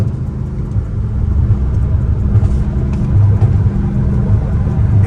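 Catless Dodge Hellcat Redeye at night, a loud steady low exhaust rumble from close by, with no distinct pops standing out.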